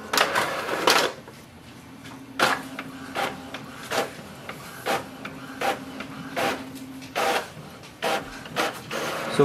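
An Epson WF-2850 inkjet printer whirs and clicks as it makes a copy, its carriage sliding back and forth in a steady rhythm of short mechanical strokes.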